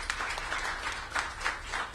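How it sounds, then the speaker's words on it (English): Soft applause from an audience at a mayoral press event announcing a new Main Street corridor, faint and somewhat distant, with scattered claps rising and falling briefly. "Let's give Anthony a round of applause as well."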